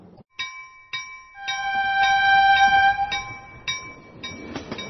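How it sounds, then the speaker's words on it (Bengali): A train whistle sound effect for a comic story about a toy railway gives several short tonal toots, then a longer sustained whistle, followed by clattering rumble as the train pulls away. "পি করে বাঁশি বাজলো, নড়ে উঠল মার্টিনের রেল।"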